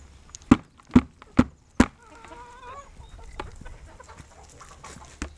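Chickens on a farm cluck and call as they are let out of the coop and given feed in the morning, with a few loud sharp knocks at the start, then a run of warbling clucks and softer scratching.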